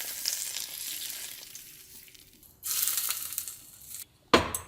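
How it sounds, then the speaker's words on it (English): Hot olive oil spread over a fried snapper fillet with shoyu sizzles in sharp, crackling bursts: a fading hiss at first, then a loud spitting surge and a final quick sizzle, close up. "that's the reason why I heat up the extra olive oil. Turn it off, and I spread it right on."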